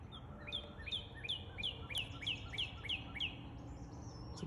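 A cardinal sings from up in a tree during a tornado watch with severe storms nearby, giving a steady series of about eight clear, downward-slurred whistles at an even pace, moderately near, over low rumbling background noise.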